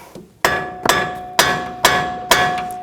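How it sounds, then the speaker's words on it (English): Five loud, ringing metallic hammer strikes on a car's front strut assembly at a steady pace, each clang decaying with a bright resonant tone, close by with no talking. "you hammer and start tapping up from the bottom"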